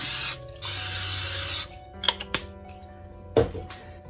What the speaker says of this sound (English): then I spray them with Pam